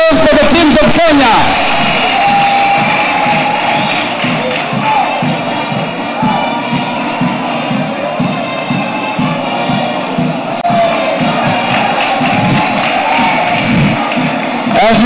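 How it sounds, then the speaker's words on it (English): A large outdoor crowd cheers and shouts for the Kenyan teams at the opening parade of police games in Kigali, with a steady roar, whoops and a rhythmic thumping running throughout. "A round of applause for the teams of Kenya."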